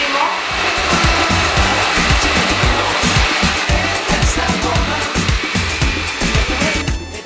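An electric blender whirs loudly and steadily, blending leche de tigre made with fish broth and lime juice, a close, constant motor drone with a churning pulse that tails off at the end.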